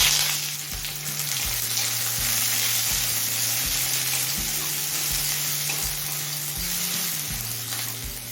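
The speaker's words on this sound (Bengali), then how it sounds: "এবার কুচনো পেঁয়াজ দিচ্ছি" Chopped onion frying in oil with cumin seeds, bay leaf and dried red chili, a loud close sizzle over a low rhythmic hum that steps repeatedly, no voices present.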